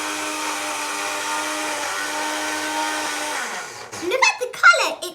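Kitchen blender whirs with a steady motor hum while mixing green pesto with olive oil, then winds down and stops, followed by a voice and light laughter close by.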